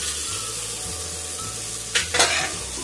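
Onion, ginger, garlic, tomato and spices for a cauliflower-and-meat curry (gobhi gosht) frying in a pan, a steady close sizzle with a few louder scraping stirs near the end, no talking.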